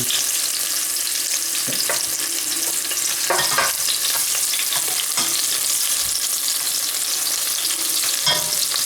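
Restaurant-style sweet and sour sauce bubbles and spits in a hot pan while being stirred, giving a constant dense hiss with scattered crackles and soft scraping knocks, near and fairly loud.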